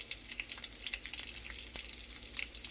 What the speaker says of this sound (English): This bacon's still got to cook.